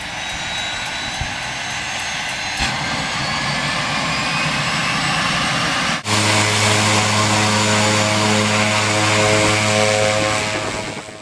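A Pilatus aircraft flies over Indonesian volcanoes with a loud, steady propeller and engine drone heard from inside, shifting midway to a harsher hum with strong steady tones.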